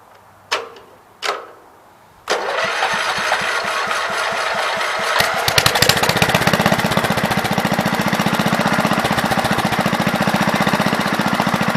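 A 526 tractor engine runs with its PTO engaged and the rotary plow's gearhead locked up, starting after a couple of sharp knocks into a loud, steady mechanical clatter that continues to the end.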